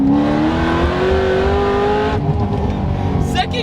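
A 890 hp Corvette ZR1 accelerates hard in second gear, its engine note rising steadily and loud for about two seconds before easing off, with voices talking over it.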